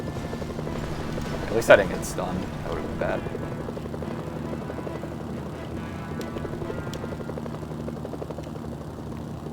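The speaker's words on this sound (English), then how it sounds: "Get in the freaking helicopter." A helicopter in the video game Mercenaries: Playground of Destruction gives a steady, droning rotor hum throughout, with a short louder bump early on, under someone talking.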